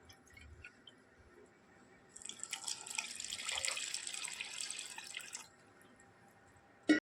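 Sour buttermilk pours into sieved semolina in a bowl to make dhokla batter, a close, soft, wet splashing pour lasting about three seconds between quiet moments, with no talk.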